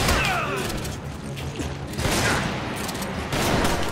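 Rapid gunfire in the video game Resident Evil 5, a dense, loud barrage of shots over a mechanical, rattling game soundscape, with heavier bursts swelling partway through and again near the end.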